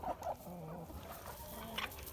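Chickens clucking inside a backyard coop, a few close, short clucks and murmuring calls from the hens over a low background, with no talk.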